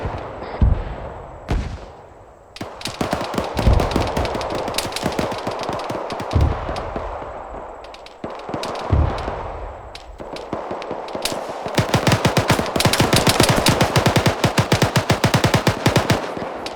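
Sustained machine gun fire in the military shooter game ArmA 3, loud rapid bursts that run almost continuously with brief pauses and a few heavier booms, no voices.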